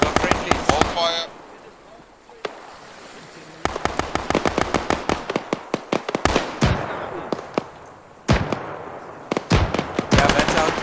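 Friendly troops fire weapons in the Arma 3 video game: bursts of rapid automatic gunfire and single sharp cracks, some close and loud, others more distant, in uneven clusters, while a voice speaks briefly at the start.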